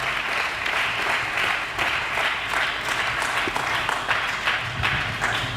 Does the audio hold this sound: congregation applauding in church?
yes